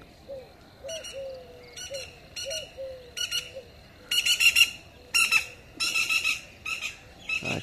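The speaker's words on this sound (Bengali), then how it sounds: "আর সকালবেলা এই পাখির ডাকগুলো শুনতে" Birds call on a foggy early morning: a series of repeated chattering squawks comes in distinct bursts, some louder and closer, over a faint background.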